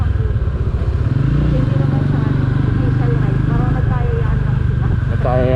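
A group of about ten motorcycles, including a maxi-scooter 400, rides along, engines droning loudly and continuously close by, with a person talking over the noise.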